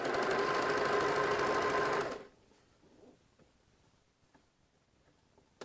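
A sewing machine runs a 3-step zigzag stitch along fold-over elastic on doll underwear, making a loud, fast, steady mechanical whir for about two seconds. It then stops, leaving faint handling clicks.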